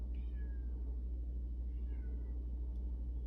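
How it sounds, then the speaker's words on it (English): A cat meows twice, a drawn-out meow followed by a softer one, over a steady low hum. "I hear a cat."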